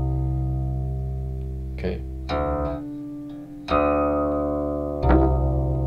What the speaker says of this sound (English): You just use your middle finger to push it out, get an opening string sound.